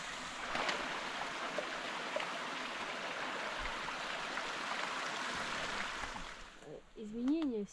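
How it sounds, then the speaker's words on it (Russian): A mountain stream rushes in a steady broadband wash for several seconds during an expedition hike near the Dyatlov Pass, then drops away as a voice speaks at the end. "Для начала надо ручей перейти."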